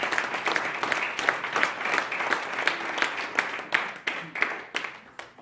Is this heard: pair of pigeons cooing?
no